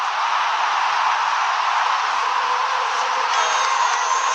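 A large cricket stadium crowd of supporters roars in a steady, broad wash of cheering that holds at an even level throughout, dense and distant-sounding with no single voice standing out.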